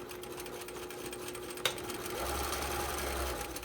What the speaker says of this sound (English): Now you can sew as fast or as slow as you want.